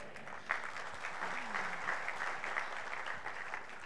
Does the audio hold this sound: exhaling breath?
no